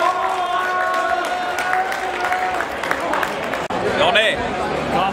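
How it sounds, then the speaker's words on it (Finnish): Applause and cheering from a crowd honouring a drifting team's season, steady dense clapping throughout with talk mixed in and a brief cut near the end. "Isot aplodit tämän vuoden Driftingin sankareille."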